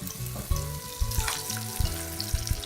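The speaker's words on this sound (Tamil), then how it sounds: "ஷாலோ ஃப்ரை தான் பண்ணணும்." Egg-coated mutton chops shallow fry in oil, crackling and sizzling up close with frequent spatters and a few clinks from a utensil against the pan.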